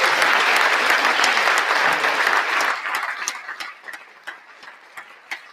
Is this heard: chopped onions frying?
no